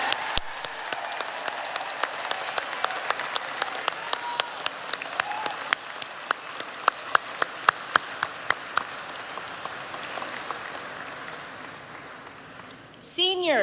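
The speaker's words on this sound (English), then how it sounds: "let's have a huge round of applause for the class of 2018" A crowd at a 2018 college baccalaureate ceremony applauds the graduating class, the clapping thinning to a few sharp, distinct claps that gradually fade away.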